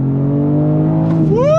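A BMW M4 CSL sports car pulls in second gear under throttle, its close engine drone holding steady and then climbing sharply in pitch as the revs rise near the end.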